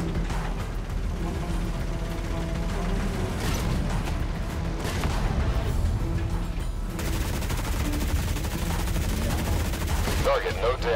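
Gunfire and mechanical clatter from an American M60 tank in MWT Tank Battle, a steady loud stream of shots and clanking machinery with crew voice callouts mixed in throughout.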